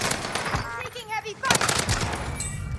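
Rapid automatic gunfire from an M13 rifle in the Call of Duty Warzone video game, dense bursts of shots in two clusters, fairly quiet overall with no talking.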